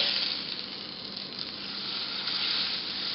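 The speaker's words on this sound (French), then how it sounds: "Maintenant vous retournez votre steak" A homemade hamburger steak frying in a hot pan, a steady close sizzle and crackle of fat that keeps going without a break, with no voices.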